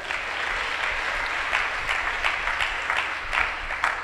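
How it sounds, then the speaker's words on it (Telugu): A church congregation claps hands during worship, filling the room with continuous applause that has sharper, regularly spaced claps standing out, close and lively, with no talking over it. "కొట్టు చప్పట్లో"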